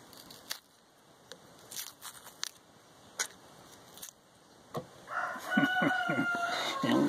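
A rooster crows nearby, a loud drawn-out call near the end, following scattered clucks and short clicking sounds around a backyard garden.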